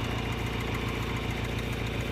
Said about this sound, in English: I thank God for a gas tractor.